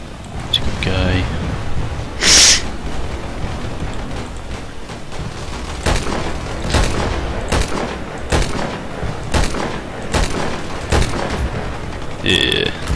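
Gunfire in the online shooter Battlefield Play4Free: a string of sharp shots spaced across the clip, with one loud blast near the start, over steady game background noise.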